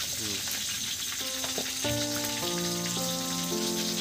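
Dry red chillies and bay leaves sizzle in hot oil, a steady bright crackle over the whole span, with tonal background music running underneath.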